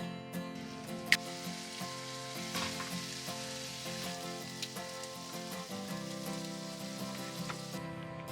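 Vegetables sizzling steadily in a pan while dinner is cooked, a dense hiss of frying with occasional stirring clinks and scrapes, close and continuous, with no talking.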